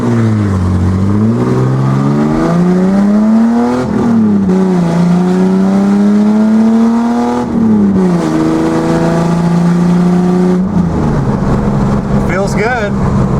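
A 1979 Datsun 280ZX engine with upgraded intake and exhaust, idling a little high, its pitch climbing and dipping as the throttle changes, a loud close mechanical drone throughout.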